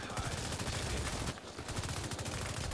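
Sustained automatic gunfire in The Division 2's Dark Zone, a rapid, loud, close stream of shots with a brief break in the middle before it resumes.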